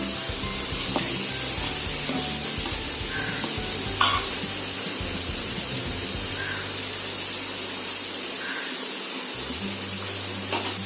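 Cooked rice being stirred into a frying mint and mango mixture with peanuts and chana dal in a pan, a steady close sizzle under scraping and stirring strokes, with a few sharper clinks of the spoon against the pan.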